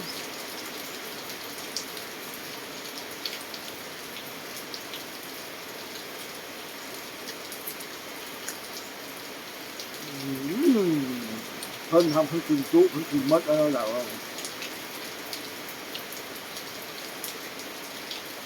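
Steady rain falls outdoors on a rainy day, a constant even hiss with faint drips throughout, while someone speaks briefly near the end.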